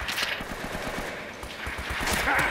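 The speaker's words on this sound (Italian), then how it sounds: "Da dove arrivano i colpi?" Rapid automatic gunfire rattles through a firefight in the sunken city of Uncharted: Drake's Fortune, with steady repeating shots that grow slightly louder toward the end and no talking.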